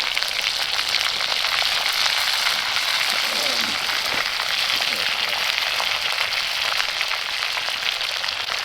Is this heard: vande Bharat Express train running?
no